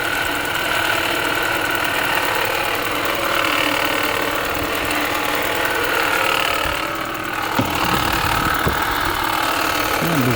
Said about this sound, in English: There's the alternator.